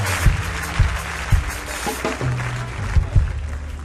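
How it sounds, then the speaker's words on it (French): A church congregation applauding for Jesus at a French-language service: a steady wash of clapping from many hands, with a few louder nearby claps standing out, moderately loud and unbroken. "Acclamons pour Jésus et veuillez vous asseoir"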